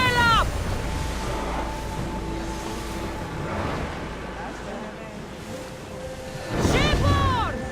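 Wind rushes steadily over open sea as an ancient ship sails in Assassin's Creed Odyssey, with water and surf noise throughout and short voiced shouts swelling near the start and end.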